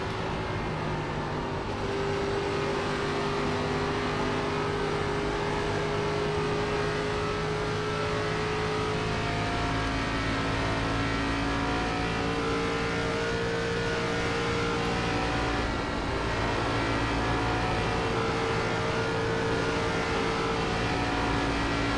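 An ARCA stock car engine in the iRacing sim at Texas drones steadily at high revs for the whole stretch, loud and continuous with slight pitch shifts as the car circulates, no talking over it.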